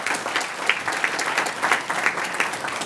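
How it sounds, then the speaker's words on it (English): Round of applause at a city meeting, a steady patter of many hands clapping at moderate distance, continuous and even throughout with no voices over it. "Would you please give him a round of applause?"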